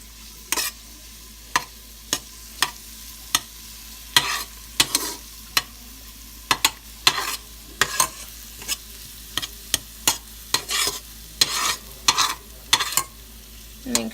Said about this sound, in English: I'll put this over continue to stir